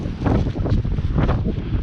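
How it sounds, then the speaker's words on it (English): Strong wind gusting around 40 at an abandoned farm in Canada buffets the microphone in loud, rough gusts that rise and fall continuously. "it's windy today. I think the wind around 40 gusts."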